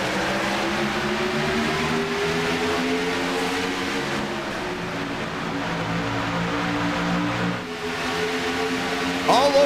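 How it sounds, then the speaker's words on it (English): Engines of 1987 NASCAR Cup Series cars racing at Talladega in iRacing: a steady, loud multi-car drone with layered engine tones that shift slightly in pitch, briefly dipping late before a burst at the end. "the only music you need to hear, that's the roar of the engines"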